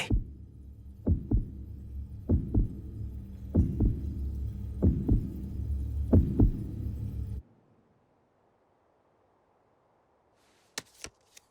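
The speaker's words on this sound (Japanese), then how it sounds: "心臓の音" A heavy, slow heartbeat thumps in doubled beats over a low hum, repeating steadily for several seconds before cutting off, followed by a couple of sharp clicks, during a Cardfight!! Vanguard overDress anime card battle.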